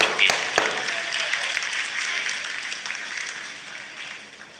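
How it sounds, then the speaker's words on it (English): Sustained applause fills mission control during the Chandrayaan 3 moon landing, a dense roar of many clapping hands that slowly eases off over several seconds. "तालियों की गड़गड़ाहट से सुन सकते हैं"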